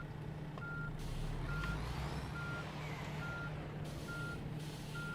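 A reversing truck in the On The Road PC driving game emits evenly spaced electronic backup beeps over a low diesel engine rumble, with a brief hiss of air brakes; steady and fairly quiet with no talking.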